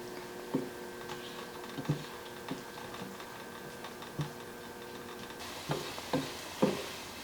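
Garlic cooks in a soup pot with a faint sizzle, broken by scattered light clinks and taps of stirring at irregular intervals, no voices.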